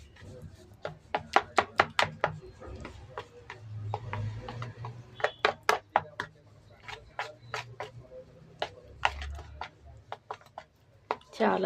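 Henna paste being stirred and mixed at length to work out lumps, giving a quick run of sharp clicking taps against the bowl in an irregular rhythm, close by, with soft background noise and no speech.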